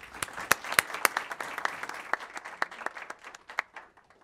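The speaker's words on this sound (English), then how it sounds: "Let's give our finance department another round of applause." Applause for a finance department at a city council meeting, steady clapping from a modest crowd with distinct individual claps standing out, tapering off near the end.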